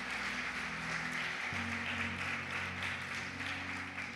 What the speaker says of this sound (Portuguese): dê a sua melhor salva de palmas para o nome do Senhor